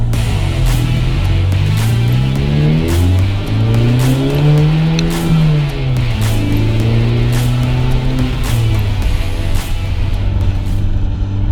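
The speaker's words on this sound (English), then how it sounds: "What do you think of the exhaust?" A Honda Civic Type R engine revs and drones loudly up close, its exhaust note rising and falling through several throttle swells with a deep rumble.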